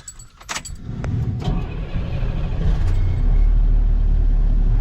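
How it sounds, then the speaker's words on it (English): A Class B CDL truck's engine cranks and catches after a brief jingle of keys, then settles into a loud, steady idle rumble that builds and holds close by. "I'm gonna start my truck"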